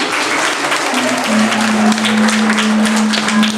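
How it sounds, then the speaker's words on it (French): A group of children applaud during a storytelling session in Burkina Faso, loud dense clapping close by, with a steady voice-like tone holding beneath it. "Applaudissez bien pour vous"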